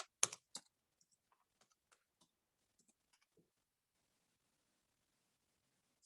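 Faint, scattered keystrokes on a computer keyboard as a password is typed, a few sharper taps at the start, then soft, sparse clicks over near silence.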